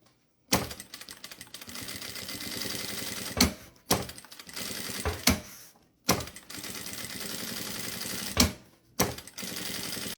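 Sewing machine running a safety seam around a fabric makeup case, a steady rapid mechanical whir of stitching in several runs broken by short stops and clunks, heard alone with no voices.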